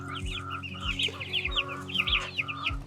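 Egg-laying chickens in a coop cluck repeatedly in close, busy overlapping bursts, with a steady low hum and soft periodic thumps underneath.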